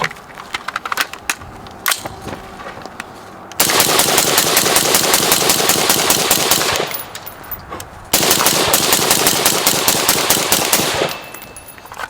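An Energetic Armament Ferox rifle with a 10.3-inch barrel firing long, rapid automatic bursts outdoors, loud and close, each burst a dense stream of sharp cracks, following a few scattered single shots.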